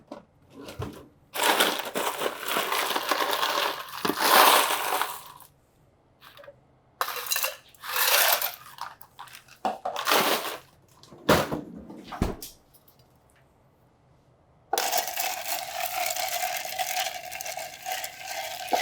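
Ice rattles and clinks as a mezcal cocktail is stirred, in close, loud bursts of crunchy jangling separated by silent pauses, ending in a longer sustained stretch.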